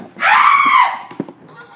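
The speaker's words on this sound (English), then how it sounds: "Why did you scream like that?" A person lets out a loud, high scream lasting about half a second, followed by a few quieter thumps and faint background noise.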